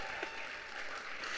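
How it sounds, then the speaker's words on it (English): Brief, dense applause from a crowd at a health equity summit welcome, steady and moderately distant, with no clear individual claps standing out. "That's applause there, too."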